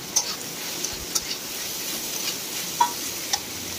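Chopped capsicum frying in oil in a pan gives a quiet, steady sizzle, broken by a few sharp clicks and ticks of stirring.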